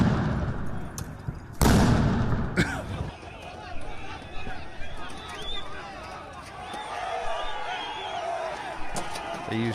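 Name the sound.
stun grenades going off during an attack, played video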